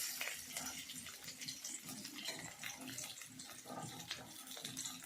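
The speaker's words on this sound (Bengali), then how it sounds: "জল ঢেলে দেওয়া হয়ে গেল।" Water poured into a pan of fried egg and potato, a continuous hissing, splashing wash with a voice faintly underneath.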